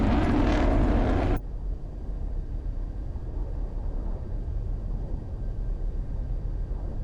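A MiG-29 jet taxis in the Flaming Cliffs 2 flight sim with its throttle at 50%, giving a steady, muffled engine rumble after a loud, bright roar cuts off abruptly in the first second.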